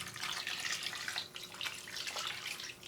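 Water mixture poured into a kitchen gadget, a steady splashing, trickling pour lasting a few seconds, close and alone without talk.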